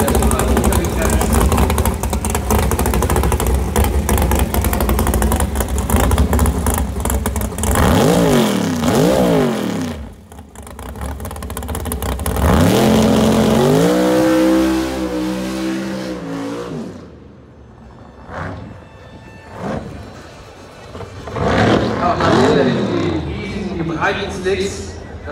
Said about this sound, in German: Oh, da geht doch gar nicht mit dem Dragster. Burnout, Donuts.